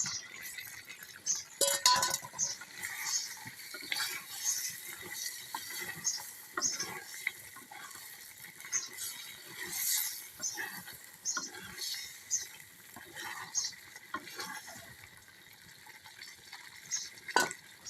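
Duck meat curry cooks in a clay pot as a spoon stirs and scrapes through it, with soft bubbling and sizzling, light patter and occasional clinks at close range.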